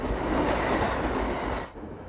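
An Intercity 125 high-speed train rushes past with a dense, roaring rumble of wheels on rails that drops away abruptly near the end.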